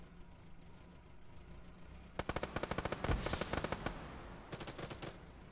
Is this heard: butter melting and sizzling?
no